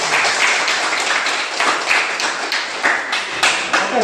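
A classroom group claps in a quick round of applause, with dense, uneven hand claps holding steady for a few seconds.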